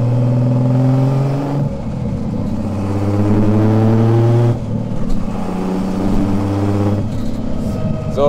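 A modified VW Golf engine with an EMU Black ECU revs while driving, loud and close, its pitch rising and falling through several pulls with gear-change dips, alongside a voice speaking over the engine.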